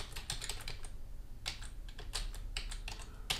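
Typing on a computer keyboard while entering a word into a PowerShell word scramble game: bursts of quick, close key clicks with short pauses between groups, no voices.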